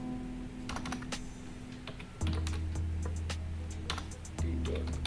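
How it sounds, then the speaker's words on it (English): An IP address being typed on a computer keyboard during a Kali Linux session, heard as a close run of quick, uneven key clicks over a steady low hum. "So we can go ahead and type the address"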